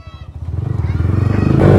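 An 800cc motorcycle with a stainless steel exhaust pipe idles up into a rapid, loud thumping beat that quickens and swells as the throttle opens, close by.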